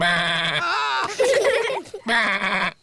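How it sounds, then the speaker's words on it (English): A cartoon sheep gives a long, loud, quavering bleat, then a short break filled with other sounds, then a second drawn-out bleat close to the listener. "The sheep said, "Bah.""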